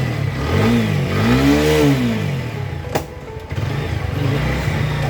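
A TVS Apache 4V motorcycle engine revs up and falls back in a couple of loud, close throttle sweeps, then settles into a steady idle with a brief sharp click partway through.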